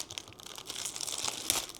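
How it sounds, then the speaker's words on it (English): A scalpel slices into a soft gel anatomy model frog, giving a short stretch of close, moist crinkling and tearing texture with a small sharper snag near the end, no voices. "I'm gonna use the scalpel to cut this open."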